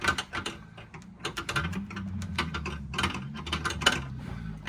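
A part is unscrewed while a car is being dismantled, giving a rapid run of close, crisp ratcheting clicks with a mechanical whir underneath and no talking.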